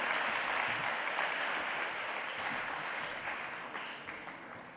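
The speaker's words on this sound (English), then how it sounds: "So a very big round of applause to all of you who are founders here" A gathering claps for the founders and committee members at a literary collaboration event, a fairly distant wash of applause that holds steady and then gradually fades.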